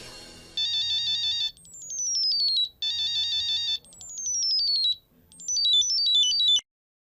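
Phone ringtone playing an electronic melody in repeated bursts of rising and falling bright tones, loud and close, with no talk over it, stopping abruptly.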